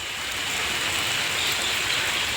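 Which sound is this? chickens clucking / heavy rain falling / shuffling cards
heavy rain falling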